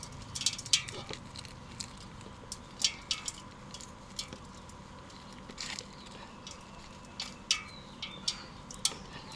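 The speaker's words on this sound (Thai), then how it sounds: "เคาะดินเดิมออกนะคะ" Old potting soil knocked loose from an Opuntia cactus pot gives a string of sharp, close taps and knocks at irregular intervals over a low background hum, with no talking.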